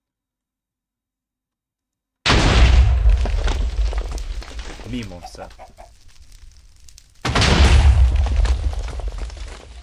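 A loud, booming TNT explosion in Minecraft bursts in after silence, fades into rumbling debris and muffled talk, then a second heavy blast follows.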